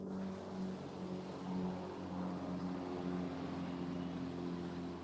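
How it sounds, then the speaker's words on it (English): A propeller airplane passes overhead, heard as a steady, fairly faint droning rumble that holds for the whole stretch with no talking. "I do hear someone has a plane flying over"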